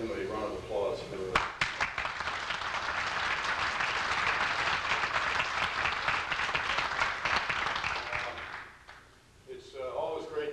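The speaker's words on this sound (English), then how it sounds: "I think we owe him a round of applause for" An audience claps warmly for an event organizer, a steady dense round that follows a brief spoken line and fades out near the end before talking resumes.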